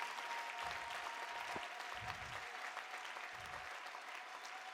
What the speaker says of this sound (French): Applaudis très bien le Seigneur des Seigneurs.